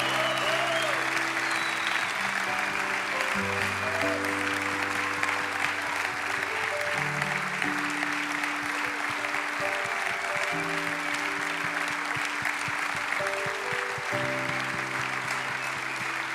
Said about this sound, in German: Come on, wir klatschen einfach.